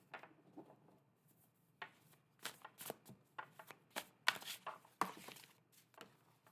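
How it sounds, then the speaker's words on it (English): Tarot cards are riffled and shuffled by hand in a quiet room, making repeated crisp papery bursts of uneven length, close and soft. "Those didn't really get shuffled."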